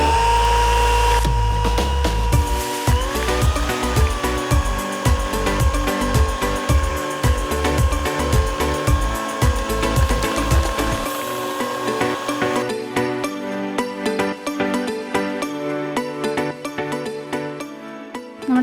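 An electric hand beater whips 250 ml of whipping cream to stiff peaks, a loud, steady motor whine with a rattling rhythm that runs continuously and changes tone slightly toward the end.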